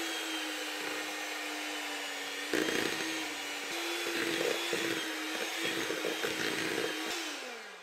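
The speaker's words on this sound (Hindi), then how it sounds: "बटर को बीट करेंगे।" Butter being beaten in a bowl for a lemon cake, a steady electric mixer whine that holds even, then dips and changes pitch repeatedly as the beaters work through the butter, close and fairly loud.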